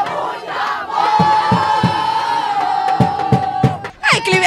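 Organized supporters at an amateur rural football match in Ruilândia chant loudly together in a sustained sung cry, close, with regular drum hits beating underneath and a burst of shouts at the end.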